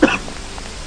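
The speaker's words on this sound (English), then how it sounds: "I'm sorry, my cough is getting worse." One short, husky cough or throat clear right at the start, then a quiet background hum.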